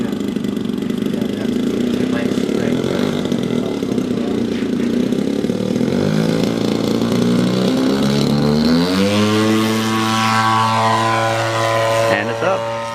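An RC model airplane's engine takes off on its maiden flight at a flying field after a hurricane, droning loudly and steadily, then climbing sharply in pitch as it revs up and pulls away.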